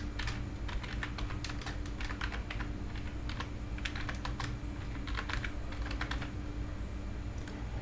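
Someone types a filter name on a computer keyboard, bursts of quick close key clicks in uneven runs over a steady low hum, with no talking.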